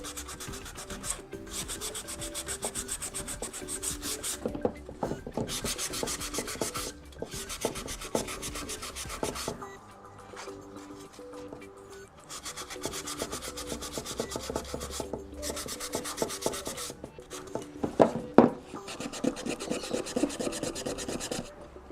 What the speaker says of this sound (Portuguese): Ou eu apago com a borracha ou eu passo uma lixa.